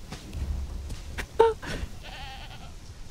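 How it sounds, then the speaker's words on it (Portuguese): A goat bleats in the video game Conan Exiles, one short nasal cry standing out partway through, while someone talks across the rest of the moment. "sua primeira vítima vai ser o Bode Zé"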